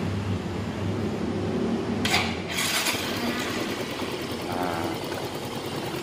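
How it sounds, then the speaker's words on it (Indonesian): A Yamaha Mio Z scooter engine with a sputtering, unsteady idle and weak power runs close by, a steady mid-pitched mechanical drone with a brief louder burst partway through. A voice briefly speaks once. "baru nanti bisa kalian tes lagi ya motornya"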